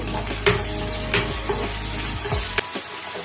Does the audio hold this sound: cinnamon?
yes